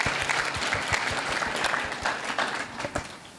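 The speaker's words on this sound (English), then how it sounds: "So give them a round of applause for joining" An audience claps steadily, a dense wash of applause that tapers slightly toward the end.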